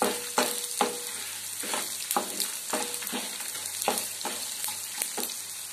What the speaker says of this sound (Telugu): దాంట్లో ధనియాలు జీలకర్ర ఆవాలు వేసుకోవాలి వేసుకొని బాగా వేపుకోవాలి